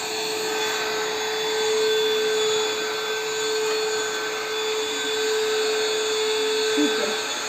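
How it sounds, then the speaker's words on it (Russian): A vacuum cleaner runs steadily with a constant high-pitched whine and motor hum, close by, with no pauses over several seconds. "Классный пылесос."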